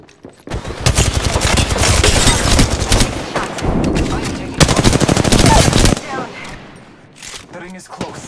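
Rapid automatic gunfire in the video game Apex Legends, loud sustained bursts with brief gaps, followed by quieter in-game sounds and voices.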